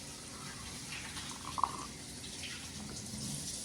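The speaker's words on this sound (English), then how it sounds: "Let me wash my hands." A household kitchen tap runs steadily while hands are washed under it, a soft continuous hiss of falling water with a faint brief splash near the middle, fairly quiet and with no talking.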